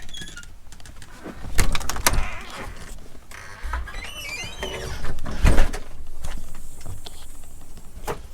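A house door opens with a scrape, clunks and a squeaky sliding sound, followed by rattling mechanical noises and thumps, close and fairly loud against a quiet outdoor background.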